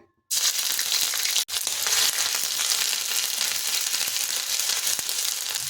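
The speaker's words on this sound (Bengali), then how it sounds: "তেলটা গরম হলে দিচ্ছি হাফ চামচ আদা কাঁচা লঙ্কা বাটা" Ginger and green chili paste drops into hot oil in a wok for potato paratha filling, bursting into a loud, steady sizzle that continues unbroken after a brief sharp clatter.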